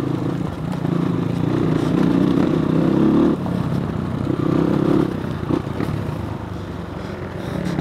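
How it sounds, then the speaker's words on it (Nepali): A CX250 motorcycle is ridden in high gear, its engine giving a loud, steady drone that dips briefly partway through before holding on again. "एकदम हाई गियरमा चलाइरहेको छु आज"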